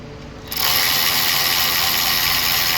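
A ratchet loosens size 10 bolts on an engine bracket of a 2015 Dodge Journey, starting after a brief quiet moment and then running as a steady, close, continuous metallic whirr of clicking pawl teeth.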